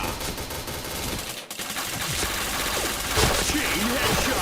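Sustained gunfire in the shooter game Point Blank, a dense rattling stream of shots that briefly drops out, then resumes louder, with an announcer-style voice faintly over it.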